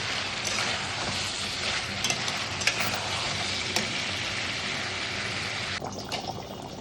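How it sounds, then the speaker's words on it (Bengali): Mutton being sautéed in a pan, a loud, steady close-up sizzle with intermittent stirring and scraping, no one speaking. "চলো, মাংস কষানো চলছে।"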